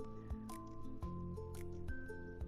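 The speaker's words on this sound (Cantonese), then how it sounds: "佢都不停喺度咬緊竹" A giant panda in a zoo enclosure chews bamboo, producing close, crisp crunching and squishing bites in an irregular rhythm over a low background hum.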